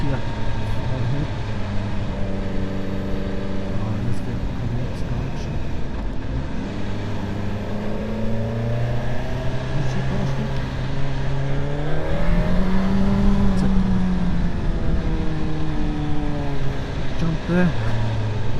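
A Suzuki GSX-S1000GT motorcycle runs on a Peak District country road between Winkhill and Ilam. The engine climbs through rising revs and gear changes as the bike accelerates to overtake, with steady wind rush and a rider talking over it.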